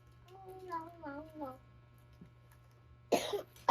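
A child coughs in a short burst near the end, after a brief stretch of someone talking over a steady background hum.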